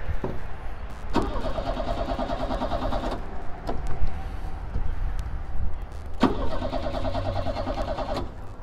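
An old engine at a farm auction, choked and cranked in a big shop, gives two long mechanical cranking spells that don't catch, with a short clunk between them, fairly close, no talk.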